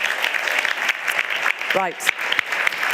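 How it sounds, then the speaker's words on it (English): Audience at a 2019 European cooperation conference breaks into dense, sustained applause that fills the room, with a brief spoken word heard over the clapping. "can you please give both these gentlemen a very warm round of applause?"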